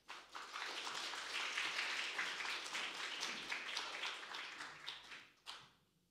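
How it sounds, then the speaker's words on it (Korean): Church congregation giving a big round of applause to welcome the pastor, clapping swelling quickly, holding steady, then tapering off into quiet near the end. "우리 큰 박수로 목사님 환영해 주시면 감사드리겠습니다"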